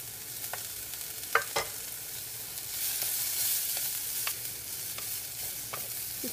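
Green chilies and garlic hit softening onions in a pan, giving a quiet, steady sizzle with a few sharp scrapes and clicks of stirring, close but soft, with no talk.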